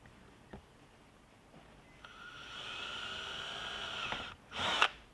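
A power drill spins up briefly and runs for a couple of seconds, then a sharper burst of whirring, with a few soft knocks before.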